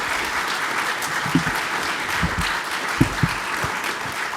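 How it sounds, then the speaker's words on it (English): Applause from an audience at an evening veterans' salute event fills the whole stretch, steady and full, with a few sharper claps standing out; no one speaks. "Please give a round of applause for our guests."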